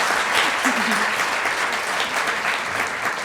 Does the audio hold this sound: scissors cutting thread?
no